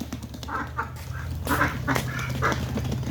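Several domestic ducks quack in short repeated bursts at close range beside a village pond, with steady low background hum and no speech.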